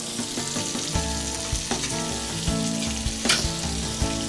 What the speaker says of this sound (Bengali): কষিয়ে নিতে হবে আলু বেগুন গুলো